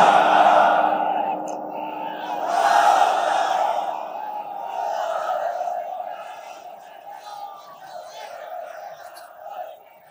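A large crowd at an outdoor Bangla waz sermon shouts the takbir response in loud, echoing unison, with a rising roar that swells again midway and then trails off in a long, reverberant chant.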